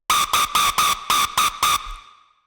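Hard bounce techno synth stabs drenched in reverb, produced in Ableton: seven punchy, evenly spaced bright hits in quick succession, then a washy reverb tail fading out alone, with no voices.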